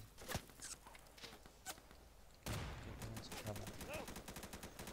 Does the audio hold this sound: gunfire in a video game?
yes